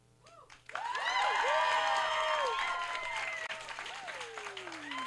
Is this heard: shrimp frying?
no